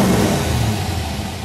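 Original blue 1964 Shelby AC Cobra with its 289 V8 revving close by, a loud, steady rumbling engine note that holds for a moment without pause.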